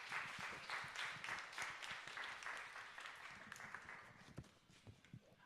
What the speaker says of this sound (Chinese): 那我们用热烈掌声来欢迎许传道